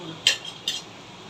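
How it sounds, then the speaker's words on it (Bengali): Two brief metallic scrapes of a utensil against a cooking pot while rice is stirred, close and fairly light, separated by a short pause. "এটা লাড়া দাও"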